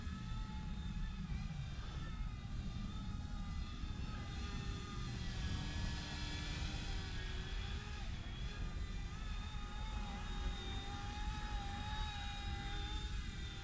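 A small Eachine E120 RC helicopter hovers and flies nearby, its rotor and motor giving a steady high-pitched whine with a continuous buzzing hum that shifts slightly in pitch as it moves.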